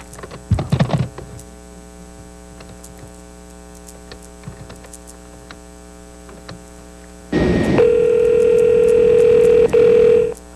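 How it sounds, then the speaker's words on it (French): A telephone line while a call is being placed: a brief clatter as the handset is picked up, then a steady loud dial tone that holds alone over a low mains hum. "Bon, appelons donc ce Guillaume."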